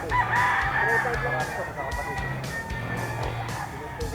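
Gamecocks crow repeatedly at a grotto, several roosters calling in overlapping, close and distant cock-a-doodle-doos with some clucking and a soft murmur of people in the background.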